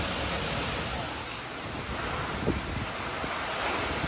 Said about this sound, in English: Wind's really picking up here